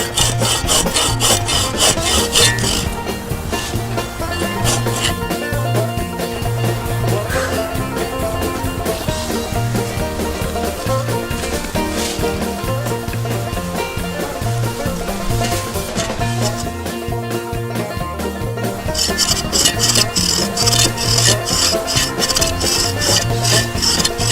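Sven-Saw folding bow saw cutting very hard oak, with steady, rhythmic rasping push-pull strokes heard up close and continuously, alone with no voices.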